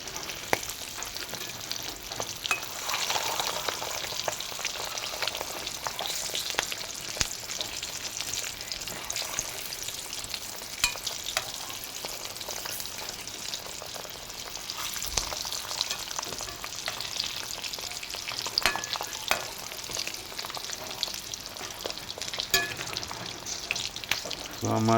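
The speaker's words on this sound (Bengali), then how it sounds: "ডিমটাকে একটু লাল লাল করে ভেজে নেব" Eggs frying in hot oil for an egg curry, a continuous crackling sizzle throughout with faint spatters and occasional utensil knocks, close by and unbroken, no one speaking over it.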